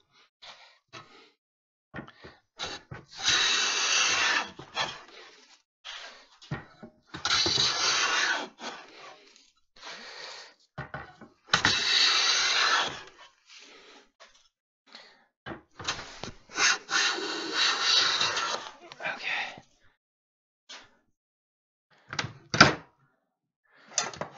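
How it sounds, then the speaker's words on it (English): A hand plane shaving along a wooden board edge in a woodworking shop, a series of rasping strokes in bursts of a second or two with gaps between, close and clear. "now that I flipped it around, actually it's kind of planing much better"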